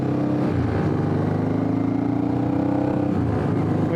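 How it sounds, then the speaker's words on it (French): A motorcycle engine drones steadily up close as it accelerates on a country road, holding a loud, continuous hum with a slight rise in pitch throughout. "Oui, là j'entends bien la moto, c'est bien."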